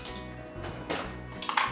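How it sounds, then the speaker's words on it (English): Kale Caesar salad is tossed with dressing in a bowl, giving a few light clinks and scrapes of a utensil against the bowl, close and fairly quiet. "now we're gonna mix in the dressing"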